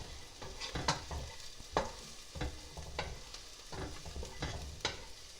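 Onions frying in a tablespoon of ghee for moong or urad dal kitchdi give a steady, quiet sizzle, broken by repeated spoon scrapes and clicks against the pan at an uneven rhythm, and no one speaks.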